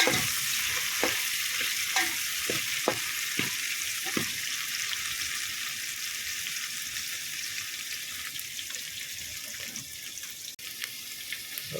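Green chillies fry in a pan with a steady bright sizzle and hiss, broken by a few sharp crackles and pops near the start.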